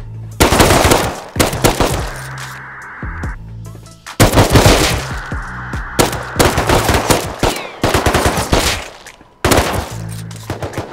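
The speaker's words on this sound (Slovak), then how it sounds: "Nie, to bol scientista, strieľa po niekom." Automatic gunfire from a scientist NPC in the video game Rust, with loud rapid bursts of shots in several volleys separated by brief pauses, dense and close.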